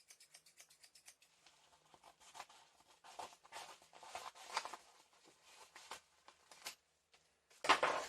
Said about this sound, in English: For this, we're going to use the scissors.